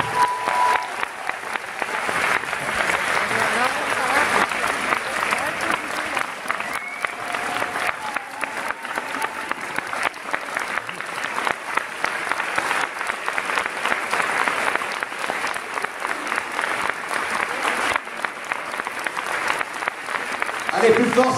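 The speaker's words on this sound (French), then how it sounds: "un tonnerre d'applaudissements et une standing ovation pour Bertrand Dondico et toute son équipe" Long, thunderous applause from a festival cinema audience giving a standing ovation to a film crew, steady dense clapping sustained throughout with faint crowd murmur and a few voices underneath.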